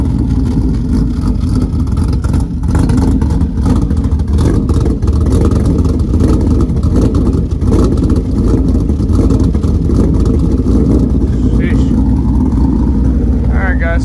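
A car engine idles close by with a steady, deep, slightly lumpy rumble and faint revs, continuous throughout while a voice speaks over it.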